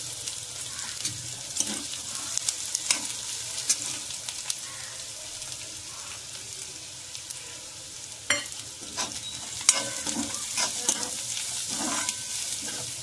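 Green chillies and turmeric frying in oil for a fenugreek leaf dish, a soft continuous sizzle broken by scraping stirs and clinks of the spoon against the pan.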